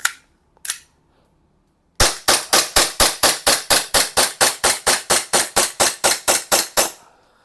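Umarex Glock gas-powered airsoft pistol firing a full magazine: two isolated shots, then about twenty sharp, evenly spaced reports in rapid succession, loud and close with no talking.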